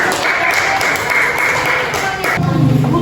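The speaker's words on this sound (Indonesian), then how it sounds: "Tepuk tangan." Clapping from a group in a classroom-style gathering greets the third-place winner, a steady dense patter of hands filling the clip, with a voice briefly rising near the end.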